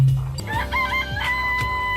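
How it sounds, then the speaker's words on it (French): Chickens clucking and a rooster crowing in the Danganronpa Trigger Happy Havoc video game, a few close, steady fowl calls with tonal crowing over a continuous game background, no talk. "Il y a des poules."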